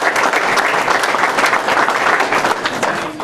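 An audience applauds a wrestling team at the dedication of a university wrestling practice complex, with loud, dense clapping from a crowd that continues steadily throughout.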